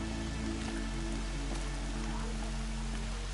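Steady rain falls across a wide outdoor setting in Horizon Zero Dawn, a continuous hiss of drops with a low droning hum beneath and no talk.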